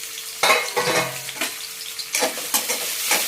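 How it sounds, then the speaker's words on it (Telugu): Onions and green chilies hit hot oil with a loud, bursting sizzle, followed by crackling frying and several scraping stirs of a spoon in the pan. "నూనె వేడెక్కిన తర్వాత ఉల్లిపాయ, పచ్చిమిర్చి వేసుకుంటున్నాను"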